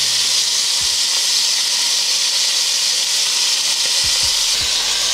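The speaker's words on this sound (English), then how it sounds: "You wanna flip it over and sear the other side as well." Beef chunks searing in a hot pot for stew, a loud, steady close sizzle and hiss throughout, with a few soft thumps as the meat is turned.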